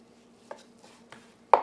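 A regular kitchen knife cuts through tender crock pot roast beef in a few soft, separate strokes, ending in one sharper knock of the blade against the board, close and fairly quiet.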